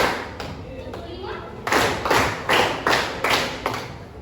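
High school students in a classroom clap in unison in a counted group pattern, several sharp claps ringing out in a steady rhythm after a murmur of voices.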